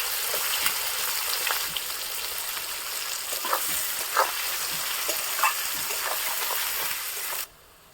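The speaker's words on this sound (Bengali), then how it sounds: "এবার আমি এর মধ্যে কুচিয়ে রাখা পেঁয়াজগুলো দিয়ে দেব, একদম লাল লাল করে ভাজবো" Chopped onions sizzle and crackle in hot oil with whole cumin seeds, with a few sharper pops and stirring scrapes over a steady close fry.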